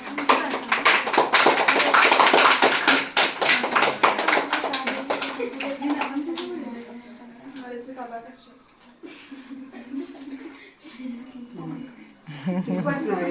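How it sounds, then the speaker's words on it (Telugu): Clapping at an 11th birthday celebration: a burst of many hands clapping fills the first six seconds, then fades into children and adults chattering and talking. "క్లాప్స్."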